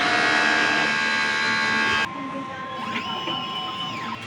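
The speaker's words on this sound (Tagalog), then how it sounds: "Nozzle check." A DTF printer whirs and buzzes through a nozzle check. A steady mechanical drone drops in level partway through, then gliding motor tones rise and fall as the print head moves. It sounds close, with no voices.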